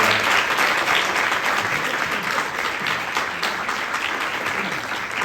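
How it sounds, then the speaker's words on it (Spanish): A large audience at a school event gives sustained, loud applause, a dense continuous clapping that carries steadily for several seconds without pause. "creo que se merece un aplauso enorme"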